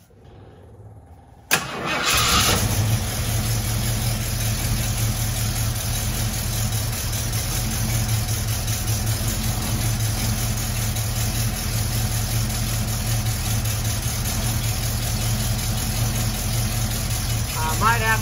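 A 1974 AMC Javelin cranks briefly and catches, then settles into a steady, loud, rumbling idle that continues unbroken close to the microphone.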